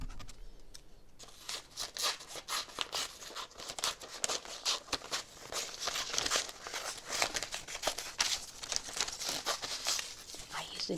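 Paper crinkles and rustles in quick irregular bursts, with sharp snips like scissors cutting, close and fairly quiet throughout.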